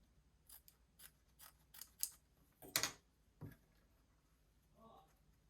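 Scissors snip through a small piece of stabilizer beside a Shamballa Perla bag, a few quiet close cuts in quick succession followed by one louder crisp snip.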